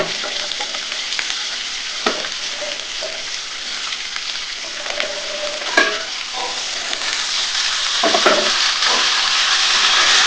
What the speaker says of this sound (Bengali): আলুটা কিন্তু একটু হালকা করে ভাজা হয়ে এসছে।